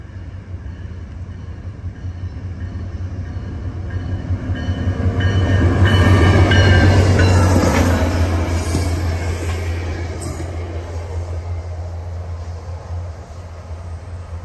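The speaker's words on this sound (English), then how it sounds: "a northbound SunRail commuter train makes its way into the Kissimmee station" A northbound SunRail commuter train rolls into Kissimmee station in the early morning, a steady low rumble of wheels and rail noise swelling as it nears, peaking mid-clip, then easing while it keeps running.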